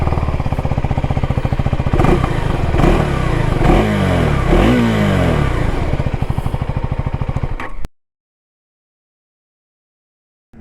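A Husqvarna Svartpilen 401 motorcycle idles loudly up close, and its exhaust is blipped through several sharp revs that rise and fall. The throttle settles back to a steady throb before the engine cuts off abruptly, leaving silence.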